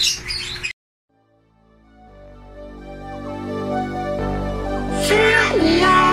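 Young pet birds give short, high chirps, a burst at the very start and a few more near the end over background music.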